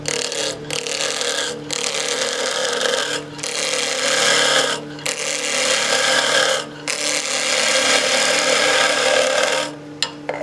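Skew chisel cutting a spinning wood workpiece on a lathe turning at about 2,000 RPM, giving a continuous, loud scraping rasp with several brief pauses between passes.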